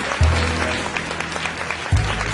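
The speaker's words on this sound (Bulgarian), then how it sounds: "аплодисменти" Audience applause fills a Business Woman of the Year 2014 award ceremony, a steady dense wash of many hands clapping at moderate loudness, with a brief low thump near the start and another near the end.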